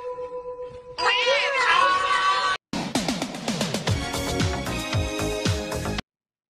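A cat meows in a quick run of calls, close and fairly loud, with a continuous music bed and edited sound effects around it.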